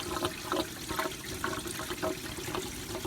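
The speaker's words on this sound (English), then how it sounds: "So we're just gonna drain all that coolant out of the car." Engine coolant from a 2007 Chevy Uplander drains into a tray, a steady close splashing and trickling of liquid with a faint rhythmic pulse, no voices.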